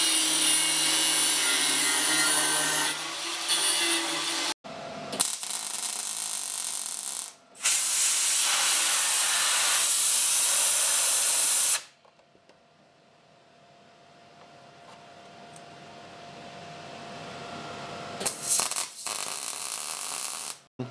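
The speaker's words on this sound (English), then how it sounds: "So what are you welding on now?" Welding braces onto a 1972 Celica frame in a pro-touring build, heard as long steady hissing, crackling bursts a few seconds each with brief gaps, loud and close, then a quieter humming stretch before another burst.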